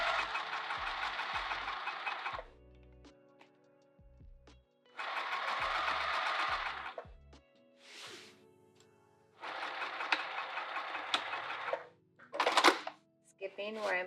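Sewing machine back stitching a handbag seam in three loud bursts of rapid mechanical stitching, each a couple of seconds long, separated by quiet pauses with faint clicks and handling sounds.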